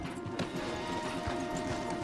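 Horse hooves clip-clop steadily in Red Dead Redemption 2 as riders move along a wooded trail, a soft repeating patter under a continuous outdoor ambience.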